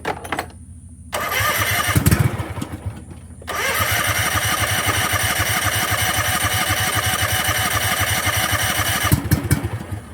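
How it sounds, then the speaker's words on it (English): An Exmark mower engine, apparently short of fuel, is cranked with a sputtering start, then settles into a loud, steady running roar close by, with a brief dip before it catches again. "not getting fuel, give it a little kick start."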